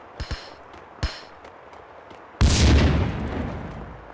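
A grenade explodes in Max Payne 2 with a loud, sudden boom and a long rumbling roar, preceded by a few sharp gunshot cracks.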